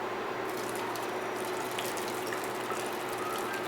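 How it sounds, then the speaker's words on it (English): Cooking water pours off cooked sweet potatoes, a quiet steady gushing and trickling stream with small clinks, heard close and alone at low volume. "I'll drain about 2/3 of the water out of it."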